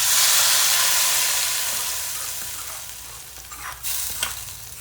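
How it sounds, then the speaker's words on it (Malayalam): Small shallots crackle and sizzle in hot coconut oil for a Kerala sardine curry tempering, a dense bright frying hiss that eases slightly over time, with a couple of sharper spits and stirs near the end and no talking. "ഇനിയിപ്പോൾ വെളിച്ചെണ്ണയിൽ ചെറിയ ഉള്ളി അത് വറവിടുകയാണ്"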